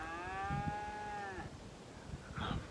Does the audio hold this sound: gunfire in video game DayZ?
no